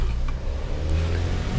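2001 Toyota Avalon engine running with a faulty coolant temperature sensor, a steady loud low rumble at high idle throughout, close by and without talking.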